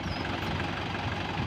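A Mahindra 585 DI XP Plus tractor, hitched to a loaded trolley, idles steadily with a low, even, knocking diesel rumble that holds constant and close, with no voices.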